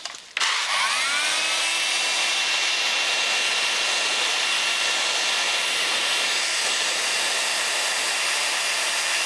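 A heat gun or hot-air tool runs steadily as a hose is heated to fit over an oversized barb for a compressor bank, a loud continuous blowing whine that starts abruptly and holds alone.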